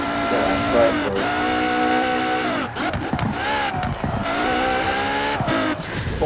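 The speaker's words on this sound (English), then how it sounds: "That is a quick car." A KTM X-Bow GT4 race car in Forza Horizon 4 drives through a town with a continuous high engine whine that climbs through the revs, dips at each gear change and then climbs again. Tires squeal briefly, and speech is faintly audible underneath.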